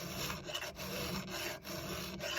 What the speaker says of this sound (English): Because what I do is I look at the chain after each filing.